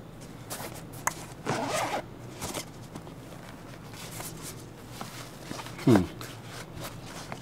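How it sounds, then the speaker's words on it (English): A half zipper on the mesh carrying case of Beats Studio Pro headphones gives a short close rasp near six seconds, with a softer handling scuff earlier and quiet rustling throughout. "Not too sure about the whole half zipper thing though."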